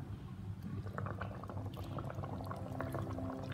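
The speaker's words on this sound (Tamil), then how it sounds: "இப்போ ஒரு கொதி வரட்டும்" Fish curry gravy bubbling in a pot, a faint but steady simmer with small pops and gurgles throughout, heard alone without voices.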